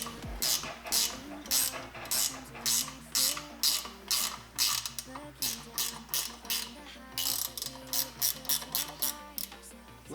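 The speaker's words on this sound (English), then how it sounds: "So if I just undo all these bolts here, which these are, well, I'm using a 13 mil wrench." A 13 mm wrench ratchets on bolts holding a turbo on a 2JZ-swapped R34 Skyline, with steady repeated clicking strokes in uneven bursts and short pauses, close and fairly loud.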